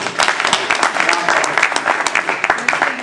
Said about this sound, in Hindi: चलो तालियां।